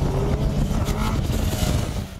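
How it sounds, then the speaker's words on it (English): A 2006 Kawasaki Ninja ZX-10R sport bike engine roars loud and steady throughout, a dense, continuous mechanical drone with no pauses. "One thing that hasn't changed much is the Kawi's monster motor."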